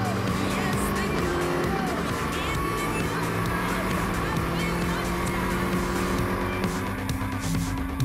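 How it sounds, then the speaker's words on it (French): Radical SR8 sports car on a racetrack, engine screaming at high revs with dense layered roar and some tire squeal, loud and continuous throughout. "Car le moins que l'on puisse dire, c'est qu'elle envoie cette SR8."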